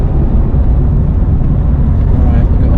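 A mint, modified Ferrari Testarossa on the move: a loud, steady low engine rumble and road roar, heard close and continuous from start to finish.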